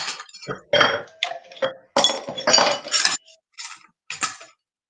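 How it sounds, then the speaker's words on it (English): Fresh ice cubes dropped into a fancy cocktail glass at a spirits tasting, giving a run of sharp clinks and rattles in quick bursts, close and fairly loud, with no talk. "So some fresh ice into your glass."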